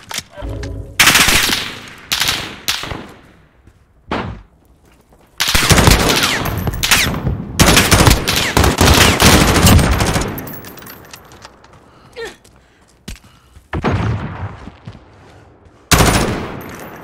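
Loud bursts of rapid automatic gunfire in a video game, some long sustained volleys and shorter rattles, close and dense with brief gaps between.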